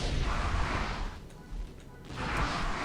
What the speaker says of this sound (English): Go ahead and throw my cluster bomb,